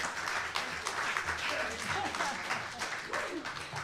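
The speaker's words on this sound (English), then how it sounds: "See, that cheer just carries on and carries on." Crowd applause at an awards ceremony, a sustained wash of clapping mixed with whoops and faint voices, steady and fairly distant throughout.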